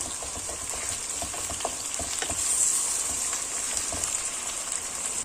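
Minced keema fries in a pan with a soft, continuous sizzle and crackle, punctuated by light stirring clicks, fairly quiet throughout.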